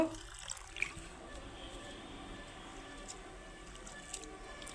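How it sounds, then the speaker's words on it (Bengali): Flattened rice (poha) is rinsed in water for a breakfast dish, giving a faint, steady wet swishing and sloshing with soft squelches. A slightly louder splash comes near the start. "আমি দুবার তিনবার করে আগে ধুয়ে নেব ছিঁড়েটা"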